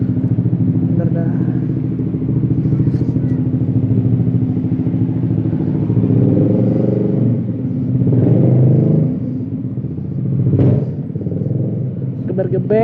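A motorcycle engine rumbles steadily at close range while the rider parks, with a slight rise in revs near the end and voices talking over it.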